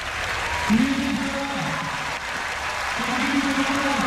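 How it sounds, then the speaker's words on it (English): Applause from a big crowd at Singapore's 2003 National Day Parade, a steady dense wash of clapping that holds for the whole stretch, with a low voice sounding faintly over it. "And a big applause from everybody"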